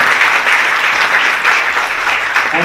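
Dense, steady applause from a conference audience fills the space, loud and continuous without a break, with no voices on top.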